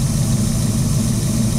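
A classic Ford Falcon engine idles with a steady, loud low rumble and a slight rhythmic throb, close by and unbroken, with no voices.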